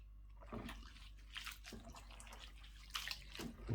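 Food being rinsed in plain water makes faint splashing and running-water sounds in bursts, quiet and close with a low background hum.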